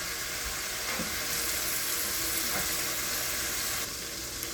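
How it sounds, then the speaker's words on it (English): Pork chop tenders fry in hot oil with a steady, close, even sizzle that holds throughout, with no voices over it. "now we're going to let those fry"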